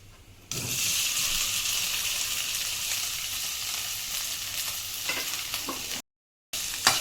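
Potatoes dropped into hot oil already frying cumin seeds, curry leaves and chili, bursting into a loud, steady hiss of sizzling with a few stirring clanks, then a brief silent gap before the frying resumes.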